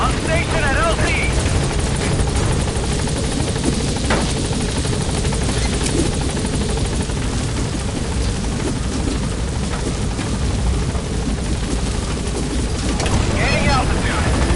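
B-Quad, a support helicopter in Metal Gear Solid V the Phantom Pain, comes in to a landing zone, rotor thump and engine whine loud and close all the way through, and a voice speaks over it.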